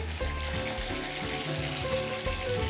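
Dry-coated pork chop dropped into hot oil for Taiwanese pork chop rice, giving a steady, close frying sizzle with bubbling that holds fairly even throughout, no voices.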